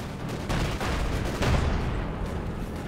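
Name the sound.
gunfire in video game Company of Heroes 2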